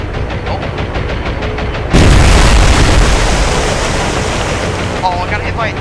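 A bomb strikes a ship in the naval game War on the Sea, a sudden heavy impact two seconds in that gives way to a sustained roaring rush, with a faint voice beneath.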